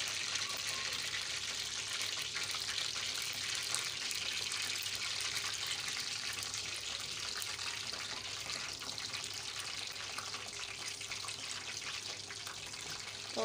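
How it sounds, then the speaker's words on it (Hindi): Besan-coated tikkis fry in a pan with a continuous, even hiss of hot oil and faint bubbling, close by and steady with no voices. "वो तो मैंने टिक्कियाँ डाल दी हैं इसमें।"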